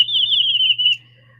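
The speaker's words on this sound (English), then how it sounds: "Our timer sound is going to be a bird song," Bird song used as a timer alert: a single bright, warbling whistle-like trill held for about a second, then fading out over a low steady hum.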